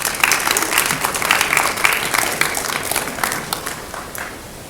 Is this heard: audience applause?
yes